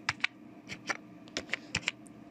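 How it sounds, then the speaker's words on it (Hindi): Fingers tap out a password on a computer keyboard, a quick irregular series of sharp, close key clicks in a quiet room. "तो मैं इन पासवर्ड को डाल देता हूँ।"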